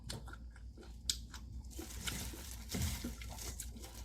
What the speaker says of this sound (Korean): 제가 간이 맞는지 먹어보도록 하겠습니다